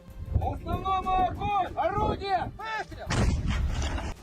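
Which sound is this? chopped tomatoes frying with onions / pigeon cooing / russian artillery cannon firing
russian artillery cannon firing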